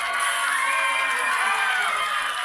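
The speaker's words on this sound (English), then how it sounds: "Give him another big round of applause." Studio audience at a televised news presentation breaks into steady, dense cheering and applause with whoops, loud and continuous throughout.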